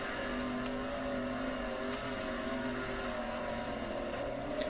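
The sprint car engine in the World of Outlaws video game holds a steady, droning roar on a practice lap, sustained at an even pitch and level with no talk.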